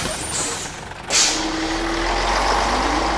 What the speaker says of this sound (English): Hold that bus!